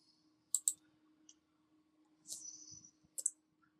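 A computer mouse gives a quick double click, then a single click a few seconds later, close and crisp in a quiet room.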